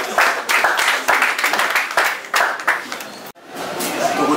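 A church congregation claps and applauds in bursts of several seconds, the clapping loud and close, before a sudden drop into quieter room noise.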